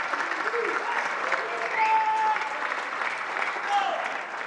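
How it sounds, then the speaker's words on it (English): Audience applause rolls through the room at a boxing press conference in Riyadh, a steady mid-distance wash of clapping with crowd murmur and voices mixed in. "A big round of applause to all of our undercard and our prelim panel"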